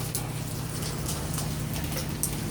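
Steady rain falls in a continuous broadband hiss with scattered brighter drop spatters, recorded close while someone stands out in the downpour; a low constant hum runs underneath.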